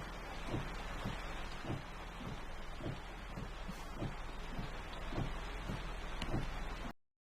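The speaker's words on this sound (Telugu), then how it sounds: "వర్షం ఆగేలా లేదు." Heavy rain pours steadily as a dense, even hiss with a regular series of soft dull thuds beneath it, then cuts off abruptly near the end; no voices are heard.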